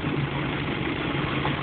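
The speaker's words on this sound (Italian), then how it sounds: "Motore in moto, funziona tutto" A New Holland TL tractor engine idles steadily up close, a continuous low rumble with mild vibration and no other sounds over it.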